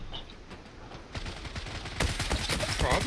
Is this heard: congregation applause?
no